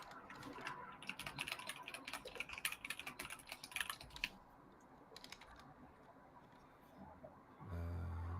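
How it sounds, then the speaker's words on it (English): Quick, continuous clacking of fingers typing on a computer keyboard, close and fairly quiet, with a short pause before a low hum comes in near the end. "Keyboard."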